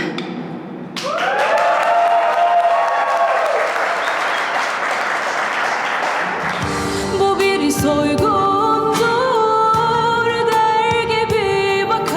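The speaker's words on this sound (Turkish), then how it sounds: "Alkışlayan elleriniz dert görmesin." Studio audience applause fills the clip, a dense, steady wash of many clapping hands close and loud from start to finish, with music and a few thumps entering partway through.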